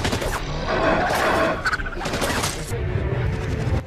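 Explosive charges detonate inside a cave in a war-themed Netflix drama, a dense, loud burst of crashing debris and rumble that fades into a lower, rattling tail.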